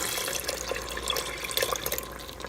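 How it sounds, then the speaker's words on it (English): A cup of broth poured into a pot of chili, a short, close splashing trickle of liquid with faint dripping and no talking. "I'm also gonna put in about a cup of the broth."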